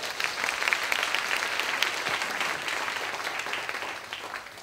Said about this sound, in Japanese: 皆さん拍手をお迎えください